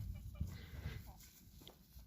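Chickens and geese on a farm cluck faintly and intermittently at low level, with soft talking mixed in among the birds.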